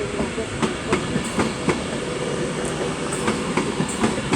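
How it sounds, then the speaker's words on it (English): A Glasgow Central to London Euston passenger train pulls into Crewe station, its wheels clicking rhythmically over rail joints under a steady rumble of carriages rolling past close by. "As the Glasgow service arrives"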